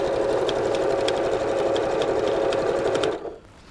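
A sewing machine hums steadily at close range while stitching binding onto a quilt, running continuously before abruptly stopping near the end.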